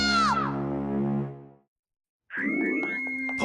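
A cartoon girl screams as she runs out of a room, a loud, high, wavering shriek lasting about a second and a half before cutting to silence, then a burst of lively cartoon music and effects.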